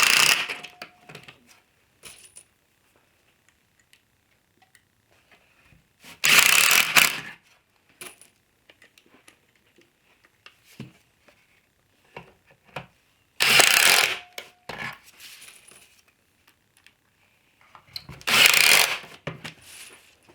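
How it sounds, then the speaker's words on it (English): Screws driven into a 2-inch wooden strip with a power driver: three loud whirring bursts of about a second each, separated by long quiet gaps with small clicks and handling sounds, close up and without talk. "we're going to drive these screws"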